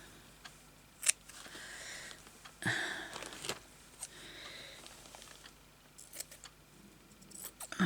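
Scissors snip through vintage lace in a handful of irregular close cuts, separated by quiet rustling and handling of the fabric, soft overall with occasional sharper clicks.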